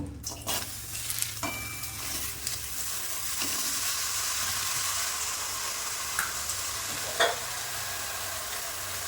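Spinach being stirred with a splash of water in a wok while cooking a Bengali prawn and spinach curry, giving a steady close sizzle and wet scraping with a few sharper clinks.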